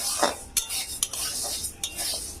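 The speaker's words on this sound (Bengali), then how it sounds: "সাবোটা আমি ভেজে নেব হালকা করে ভাজবো" Dry sago pearls are stirred and lightly roasted in a pan, with a steady rustling scrape and sharp clicks of a utensil against the metal.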